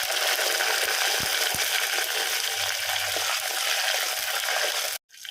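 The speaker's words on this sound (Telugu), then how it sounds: "పచ్చిమిర్చి అయితే నూనెలో బాగా వేపుకోవాలి ఇవి బాగా వేగాలి" Green chillies fry in hot oil with a loud, steady sizzling hiss and a few faint knocks underneath, before an abrupt cut near the end.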